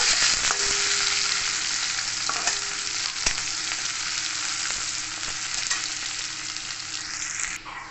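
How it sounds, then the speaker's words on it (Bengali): Chopped onion fries in a pan with garlic and ginger in a dense, loud, even sizzle. A few sharp stirring clicks sound over it, with no talking. "এবার দিয়ে দেবো আমি এখানে পেঁয়াজ কুচি, অল্প ভেজে নেব।"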